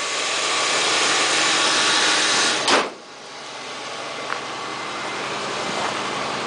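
An old Oldsmobile car engine idles steadily with a constant rumbling hum. One brief knock breaks in partway through, and faint clicks follow.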